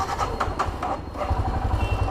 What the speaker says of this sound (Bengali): গাড়ি স্টার্ট